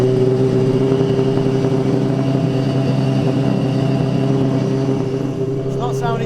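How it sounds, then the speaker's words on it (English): Nissan Silvia S15 drift car with a 635 bhp engine running rough, as if firing on only a couple of cylinders; a steady, loud idle drone holds throughout, with voices over it. "Sounds like it's running on about 2 cylinders."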